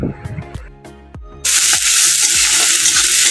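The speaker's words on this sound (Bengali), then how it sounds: "এখানে পেঁয়াজ আর রসুনটাকে খুব লাল করে ভেজে নিতে হবে" Dried red chillies, chopped onion and crushed garlic dropped into hot oil in a pan, a few clanks of a spoon followed by a sudden loud, steady sizzle, close up and continuous.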